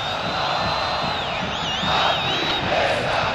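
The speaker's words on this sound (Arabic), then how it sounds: "هنا الجماهير الزملكاويه يعني تشعل الشماريخ وتغني" Zamalek fans in a football stadium singing and chanting while lighting flares, a dense, distant crowd roar with a whistling tone rising and wavering above it.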